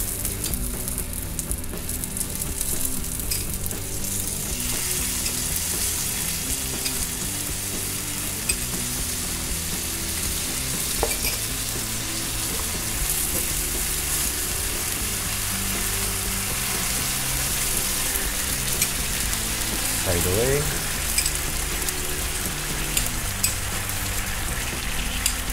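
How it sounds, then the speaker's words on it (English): Teriyaki sauce sizzles and crackles steadily around salmon belly in a hot pan, a dense continuous frying hiss held close, with a few faint clinks of a utensil partway through. "now I'm gonna start to add the teriyaki sauce"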